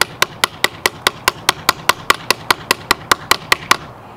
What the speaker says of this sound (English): we're gonna use this small and adorable hammer on it